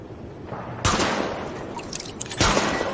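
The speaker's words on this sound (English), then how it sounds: "Open fire at the highlighted targets." Gunfire at highlighted targets on a shooting range in the video game Tom Clancy's The Division: two sharp loud shots about a second and a half apart, each ringing out with a short echoing tail over low background hum.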